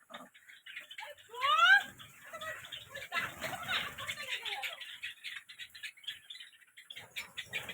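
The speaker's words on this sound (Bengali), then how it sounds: "বেশিরভাগটাই সিলভার পাখি।" Silver Java sparrows in an aviary give bright, quick chirps and short rising calls, scattered and fairly close, with a burst of fluttering wings near the start against a faint background hum.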